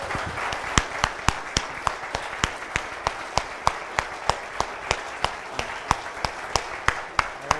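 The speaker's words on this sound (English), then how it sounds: "Wait after applause." Audience applause after a talk about Liberland, steady clapping from a crowd with sharp, evenly spaced claps standing out near the front, continuous throughout.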